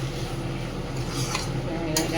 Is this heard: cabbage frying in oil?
yes